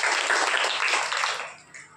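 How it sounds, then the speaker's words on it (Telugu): A church audience at a Good Friday service breaks into applause, a dense wash of clapping that swells and then fades out, with no voice over it. "చప్పట్లు కొట్టి"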